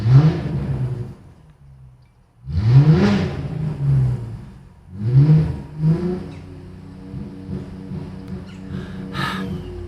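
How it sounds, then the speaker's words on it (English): A Ford Mustang engine revs in several bursts outdoors, each blip rising loudly then falling back, with roughly four or five surges spaced a couple of seconds apart and a lighter idle between them. "He's revving his Mustang."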